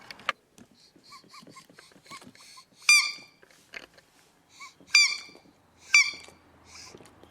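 A large Pet Face duck dog toy squeaks several times softly, then gives three loud, close, shrill honking squeaks spaced apart, with handling rustle in between.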